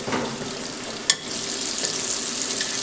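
Floured gizzards and liver frying in a pan give a steady, close, crackling sizzle, broken by one sharp pop about a second in; no one speaks.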